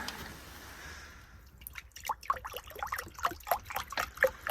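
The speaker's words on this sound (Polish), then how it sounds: "Wlejemy wodę." Water splashing and trickling into a container in uneven bursts, close by, following a short stretch of soft background noise.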